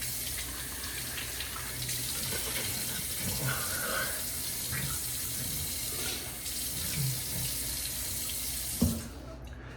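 Steady running water from a bathroom sink tap, wetting the face before a shave, a continuous close splash throughout with a brief knock near the end.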